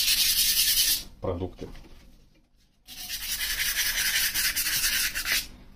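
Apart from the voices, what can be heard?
rubbing and polishing Audi A4 fog light glass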